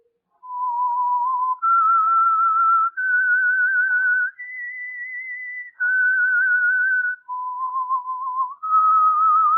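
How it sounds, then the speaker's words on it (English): A clear, melodic whistle in sustained, steady phrases that step up and down in pitch, loud and alone with brief gaps between notes, the signature of the 1947 radio drama The Whistler. "That whistle is your signal"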